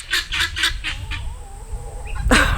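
Guinea fowl on a chicken-keeping homestead call in a rapid series of harsh, raspy cackles, loud and close, then a brief pause and a final squawk.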